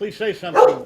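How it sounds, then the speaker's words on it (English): A dog barks and yips a few times close by, mixed in with a person speaking. "That was my dog."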